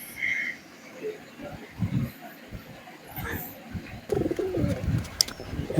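Paired pigeons in their coop coo in soft, low repeated phrases close by, with light rustling and a few chirps, while someone talks over them.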